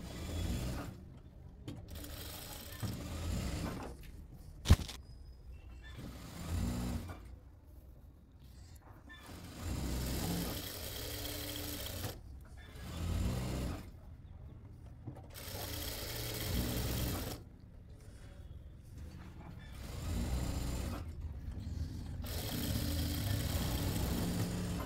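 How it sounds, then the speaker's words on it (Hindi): Sewing machine stitching a saree, its motor whirring in bursts of rapid stitching separated by short pauses, with a sharp click near the start, close and fairly quiet. "अभी इस पर लास्ट वाली सिलाई हम लगा लेंगे एक"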